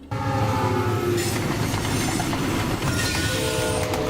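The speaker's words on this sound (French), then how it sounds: "2 trains de marchandises sont sur le point d'entrer en collision" Loud, steady rumble of heavy freight train cars rolling along the rails in the animated series Code Lyoko, with metallic clatter and a faint high squeal, close by and continuous.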